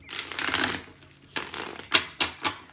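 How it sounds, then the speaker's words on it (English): Tarot cards are shuffled in a few quick bursts of riffling and slapping, each one short and close by. No one speaks during the shuffling. "Three shuffles for Leo's love life."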